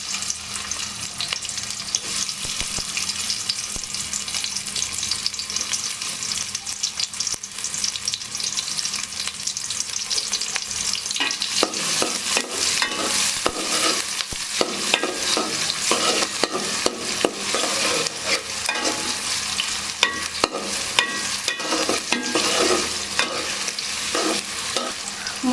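Onions fry in a generous amount of oil for chicken biryani with a constant loud sizzle. Busier, irregular stirring scrapes and crackles build up in the second half, close and without talk.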